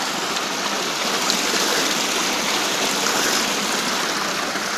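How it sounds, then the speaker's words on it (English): Fresh mountain spring water gushes steadily out of the mountainside in a white village of Andalusia, Spain, a loud, constant close-up rush with no breaks. "This is fresh mountain spring water."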